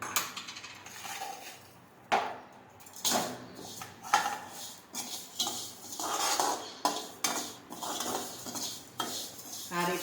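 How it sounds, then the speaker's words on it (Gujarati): Flax seeds are roasted in a pan and stirred with a metal utensil, giving repeated scraping and clinking strokes in an irregular rhythm close by, with a light dry rustle between them. "આપણે અળસી છે તેને શેકી લઈશું."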